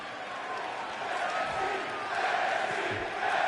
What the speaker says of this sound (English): this crowd in Virginia is going crazy